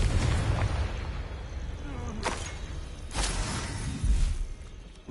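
Confringo spell explosions in the Hogwarts Legacy video game: three or four rumbling bursts, each with a sharp crackling onset, rise over a steady low in-game background.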